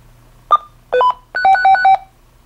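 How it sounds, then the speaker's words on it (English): A Hytera DMR radio gives an audible alert call tone: a short beep, then a two-tone blip, then a longer warbling electronic tone alternating between two pitches, loud and close with no talk. "you will hear an audible alert tone"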